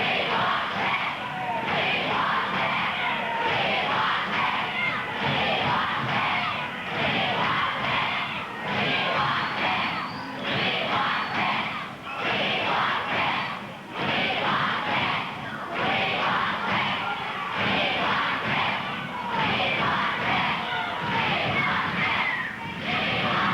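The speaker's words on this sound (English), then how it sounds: "You hear the cry of the crowd." A large arena crowd at a Portland professional wrestling match roars and cries out in continuous waves of shouting and yelling, loud and sustained throughout.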